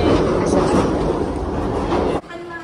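Train ride heard from onboard, a loud continuous rumble and rattle of rail cars with faint voices mixed in, which drops off abruptly near the end.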